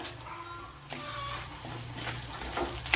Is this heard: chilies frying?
yes